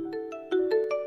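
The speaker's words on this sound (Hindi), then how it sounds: "सूरज का फोन" A mobile phone ringtone plays a short, bright melodic sequence of tonal notes, fairly faint and alone.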